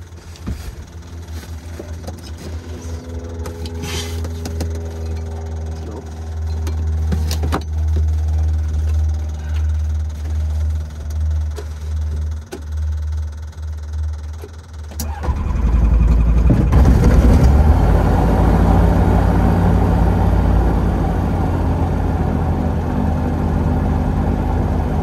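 A light aircraft's propeller engine, a PS28, starts up and runs: a steady low drone holds for several seconds, then the engine catches louder and settles into a strong, continuous near roar.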